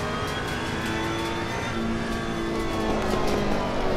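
A race car driven flat out in Assetto Corsa Competizione, its engine a loud, sustained high-revving drone with steady harmonic whine, close and continuous without any talk.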